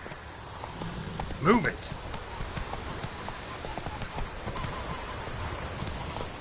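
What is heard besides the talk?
horse Roach galloping hooves in video game The Witcher 3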